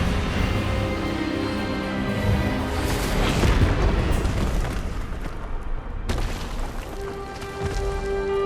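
A spell blast from the Hogwarts video game rumbles through a dense, booming surge of sustained effects, building to a heavy peak in the middle before a sudden cutoff and a lingering tonal hum.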